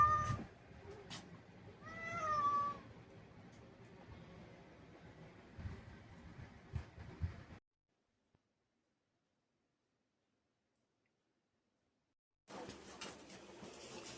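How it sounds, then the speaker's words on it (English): Hungry cats meow indoors, one rising, drawn-out meow standing out early among a few softer calls and household shuffling, then a stretch of near silence before faint noise returns. "Cats are hungry."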